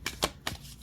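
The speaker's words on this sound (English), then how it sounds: "I'm going to keep shuffling actually." Tarot cards are shuffled by hand in three quick, close riffling bursts, crisp and soft against a quiet room.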